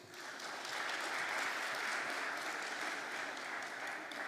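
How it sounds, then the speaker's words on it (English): Sustained applause from a conference audience honouring a panel at the Namibia Local Content Conference, steady dense clapping throughout at moderate distance with no talk over it. "Just another round of applause for our panel"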